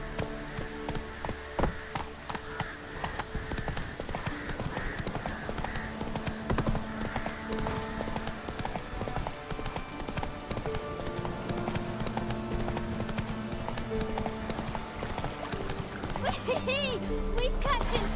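Roach, a horse in The Witcher 3, clip-clops along with a steady rhythm of hoof taps on the ground, carrying on throughout beneath game music and ambient sound, with a brief whinny-like burst near the end.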